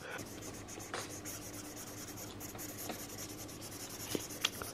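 A pen or marker scratches and rubs across a sneaker during shoe customizing, faint continuous drawing strokes with a few sharper taps near the end, set against a quiet room hum.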